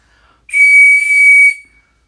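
A Billetspin 3-groove whistle is blown in one loud, steady, high-pitched blast of about a second, starting abruptly and cutting off cleanly, with a slight breathy hiss around the tone and nothing else heard.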